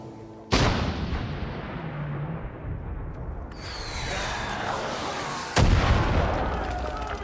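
Mortar fire in Star Citizen: two loud sudden booming blasts, each followed by a long rumbling, hissing decay, with sustained roar between them.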